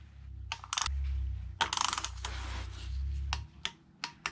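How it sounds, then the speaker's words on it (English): A spanner tightens the oil filter housing on a liquid-cooled BMW R1200GS to 11 Nm, giving close, crisp ratcheting clicks in short bursts and several sustained whirring runs, with pauses between strokes. "place the spanner over the top and just bring it in to 11 Newton meters"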